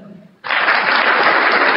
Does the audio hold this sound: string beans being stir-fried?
no